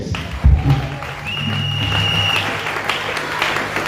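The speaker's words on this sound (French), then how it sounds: "Acclame pour Jésus-Christ." A church congregation clapping and cheering in praise, a dense wash of applause with a thump at the start, steady and close, with a faint sustained tone and some voices mixed in.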